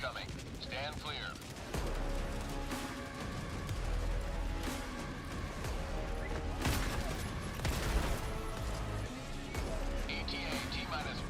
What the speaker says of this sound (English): Requesting orbital. Orbital barrage incoming.